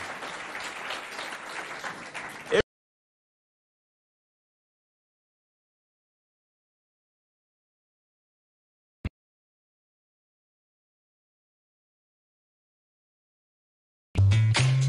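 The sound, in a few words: audience applause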